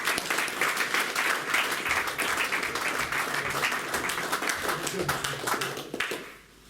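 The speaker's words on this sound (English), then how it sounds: "Give him a big round of applause, guys" An audience at a professional K1 kickboxing weigh-in applauds a fighter on the scales, steady dense clapping that carries on for several seconds with voices mixed in, then tails off.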